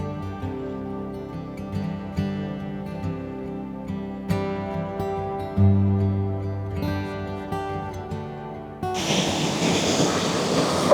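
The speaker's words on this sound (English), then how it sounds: "there's a lot of water coming down here and it's quite loud to my ear" Water rushes loudly down a mountain stream as a sudden broad, hissing roar near the end, following a stretch of music.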